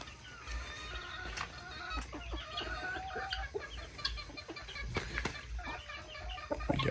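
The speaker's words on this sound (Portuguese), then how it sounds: "O galinho namorando com a galinha lá." Chickens cluck and squawk nearby in short bursts, with sharp clicks and a low background rumble.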